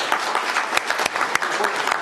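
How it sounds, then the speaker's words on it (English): Audience applause at a history presentation, a steady, dense patter of many hands clapping at moderate volume, with a few sharper claps standing out. "Let's give them applause."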